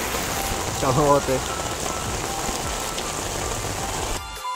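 Heavy rain falls steadily on a surface in a dense, close hiss, with a brief spoken word partway through and the downpour continuing at an even level until it cuts off near the end.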